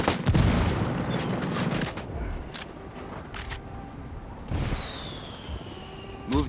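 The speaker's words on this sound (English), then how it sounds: "Open fire." Gunfire from the Ghost Recon Wildlands video game: a dense opening volley of shots gives way to scattered, echoing single cracks and bursts, with rumbling battle noise continuing underneath.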